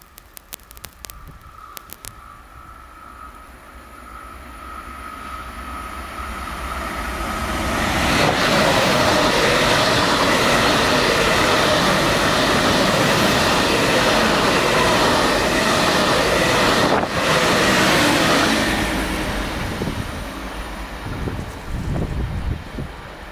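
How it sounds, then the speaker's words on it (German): ICE high-speed train rushing past on a diversion route through the Spessart near Wiesthal, a broad roar building over several seconds, peaking loud and close, then fading with wind noise around. "da haben wir noch mal einen ICE"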